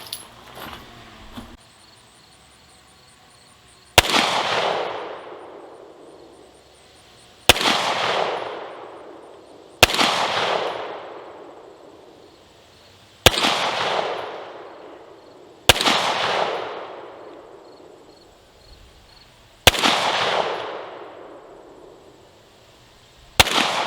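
A Springfield Echelon 9mm pistol fires seven sharp, loud shots at targets, spaced unevenly a few seconds apart, each cracking and then ringing out in a decaying echo, with faint handling noise at the start and no talk.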